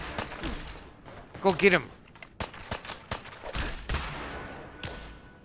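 Scattered gunfire in the video game Fallout 4 pops in short, sharp shots and brief bursts, moderately loud, mixed with footsteps and a voice talking.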